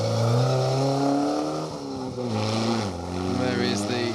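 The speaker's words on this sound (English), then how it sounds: "There is the first of our Lotus Sunbeams." A Lotus Sunbeam rally car on a historic rally stage runs close by, its engine note rising and falling through gear changes in one loud continuous pass, with a commentator speaking over it.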